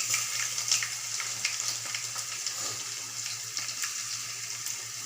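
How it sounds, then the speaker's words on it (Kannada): Mustard seeds, cumin and peanuts frying in hot oil for garlic chitranna, giving a steady sizzle with scattered crackles and pops up close, no talking. "ಇವಾಗ ಸಾಸಿವೆ ಜೀರಿಗೆ ಹಾಕ್ಕೊಳ್ಳೋಣ ಆಮೇಲೆ ಕಡಲೆ ಬೀಜ ಹಾಕೊಳ್ಳೋಣ ಚೆನ್ನಾಗಿ ಫ್ರೈ ಹಾಕಬೇಕು"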